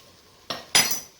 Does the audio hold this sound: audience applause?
no